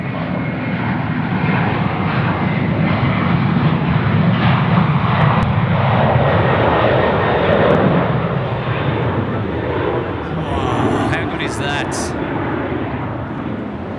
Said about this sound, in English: this aircraft here is off to Auckland, the 330-300, Qantas 145